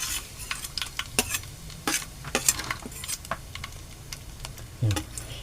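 Curry leaves hit hot oil with a pinch of cumin and crackle briskly, a steady sizzle broken by quick scraping stirs and light metal taps against the pan, close and with no voices.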